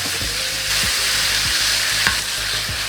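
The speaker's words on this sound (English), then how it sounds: "Now we're gonna saute the beef and the peppers together" Beef and peppers for pepper steak sautéing in a hot pan, a loud continuous sizzle and hiss with regular scraping stirs every half second or so, close up.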